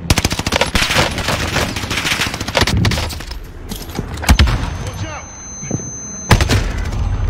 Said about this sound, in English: Strike inbound. Precision airstrike missed.